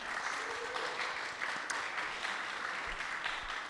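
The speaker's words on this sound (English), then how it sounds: "please, a round of applause for John Michalak and Elliot Martin." Sustained applause from an audience at a public discussion event, a dense, steady wash of many hands clapping that holds evenly from start to finish.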